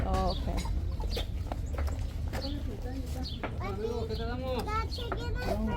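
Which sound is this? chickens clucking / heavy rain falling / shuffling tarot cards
chickens clucking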